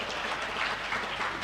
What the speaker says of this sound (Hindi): तो अगर आप चाहें तो एक बार तालियां बजा सकते हैं